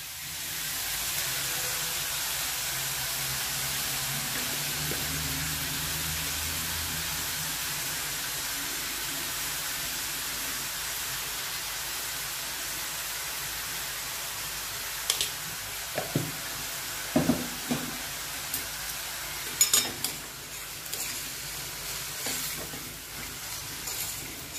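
Onions frying in a pan for Vidarbha-style kanda chutney sizzle with a steady hiss, and spoon stirring and clinks of utensils come in during the second half.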